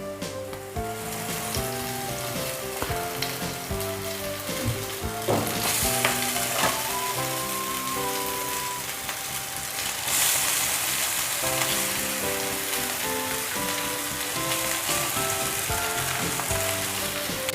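Noodles are stir-fried in oil in a kadai over a high gas flame, giving a loud sustained sizzle with repeated scraping and tossing of the spatula, close and steady, with a brief tonal hum in the background and no talking.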